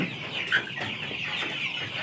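Chickens clucking on a farm, soft close clucks over a steady background hum with one brief sharper call near the start, without talking.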